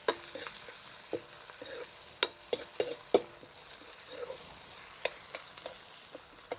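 Ginger, garlic and green chili sautéing in a pan for dal tadka, with a quiet steady sizzle broken by sharp clicks and scrapes of a spoon stirring against the pan, alone without talk.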